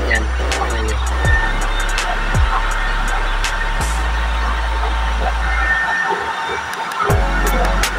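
A blower fanning the flame of a used-oil double burner stove, a loud steady roaring whoosh, briefly dipping and surging a few times, with no talk.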